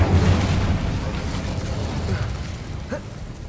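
An Incendio fire spell in Hogwarts Legacy bursts with a loud whooshing rumble that slowly fades, followed by faint crackling.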